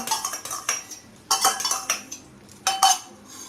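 Beaten egg is stirred in a pan with white oil, making quick bursts of metallic clinks and scrapes in short clusters with brief pauses between them.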